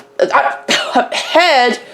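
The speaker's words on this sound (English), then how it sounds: "so I might have to clear my throat out" A man clears his throat in a few short, rough bursts close to the microphone, heard alone without other talk.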